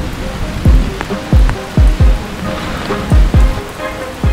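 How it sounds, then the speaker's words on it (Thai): Heavy rain pours down steadily on a muddy forest track during a touring bicycle ride, a dense close hiss with repeated dull thumps and splats at an irregular beat. "ฝนก็ตกพื้นก็แฉะโคลนก็เลอะ"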